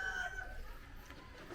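Backyard chickens on a rural Philippine homestead cluck in a brief, faint burst, with soft outdoor background noise.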